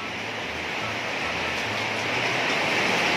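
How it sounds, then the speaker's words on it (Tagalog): Heavy rain pours steadily during a racing pigeon race in Calbayog, Samar, a dense, even hiss that grows slightly louder, with faint voices underneath. "Ang lakas ng ulan."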